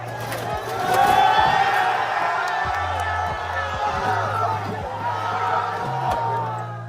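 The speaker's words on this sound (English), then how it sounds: "They started to tear the hood off the bus to cheering." Crowd cheering and whooping as people tear the hood off a bus during a riot, a dense, steady roar of many voices with shouts rising through it.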